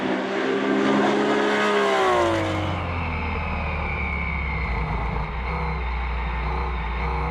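Porsche race cars, including an Elva Porsche Mark 7 and a Porsche 910, pass at speed during a Rennsport Reunion race. A loud engine scream sweeps downward in a close pass-by, then settles into a lower, steady engine roar.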